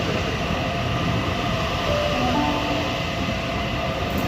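City Circle service train at Sydney Central station rolling past with a loud, steady rumble and continuous wheel-and-motor noise filling the platform, no talk.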